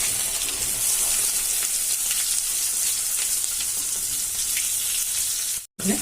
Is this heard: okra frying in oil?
yes